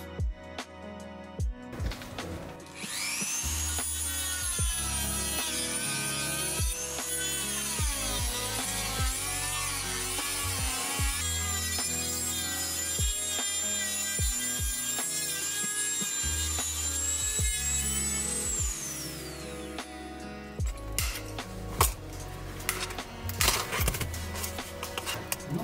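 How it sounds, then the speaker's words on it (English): A cutting machine slices open the plastic casing of a Baseus 65W GaN charger, a loud, steady high-pitched whine with grinding that runs for about seventeen seconds between short handling knocks, close up and alone. "we cannot take it out and have to get help from cutting machine"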